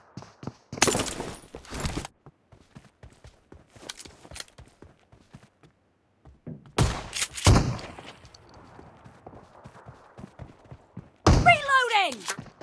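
S1897 pump shotgun blasts in a BGMI game match, sharp loud booms separated by quiet gaps with pump-action clicks and small thuds, plus a rising electronic chime near the end.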